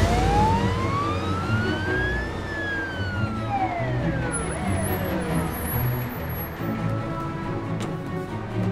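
An ambulance siren wails loudly and close by, rising and falling in long sweeping tones that fade slightly toward the end, with no talking over it.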